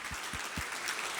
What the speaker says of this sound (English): let's give a round of applause to Mike for this great award